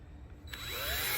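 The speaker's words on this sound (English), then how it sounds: "So let me get the drill." A power drill spins up and bores a hole for a fog light on a third-generation Toyota Tacoma, its whine rising quickly and holding loud and close after a quiet moment.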